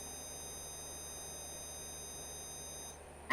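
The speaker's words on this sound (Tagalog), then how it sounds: "since na-check natin na gumagana yung buzzer natin" An Arduino-controlled buzzer in a coin-slot circuit emits a steady, thin, high-pitched electronic tone that holds for about three seconds and then cuts off. A faint click follows.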